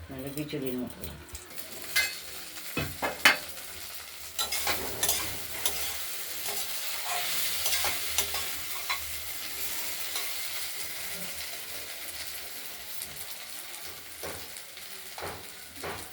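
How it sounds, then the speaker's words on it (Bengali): Chopped onion stalks fry in oil in a wok, a steady sizzle with intermittent scraping and clinking as they are stirred, close and moderately loud, while faint talk is heard in the background. "ঢাকনা খুলে আরেকবার আমরা পেঁয়াজ কলিগুলো নেড়ে দিলাম"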